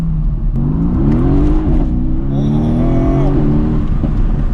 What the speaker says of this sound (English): maybe in race mode it pops a little bit more